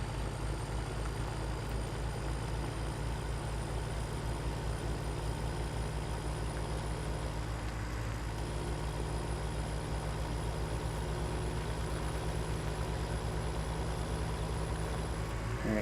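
A steady, low engine drone from a farm vehicle in Farming Simulator 17, idling evenly and continuously with no talk over it.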